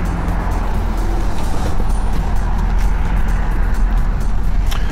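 A 2008 Jeep Liberty 3.7 Limited 4x4 with its engine running while it inches forward, giving a steady low rumble and road noise that continues throughout with no breaks and no speech.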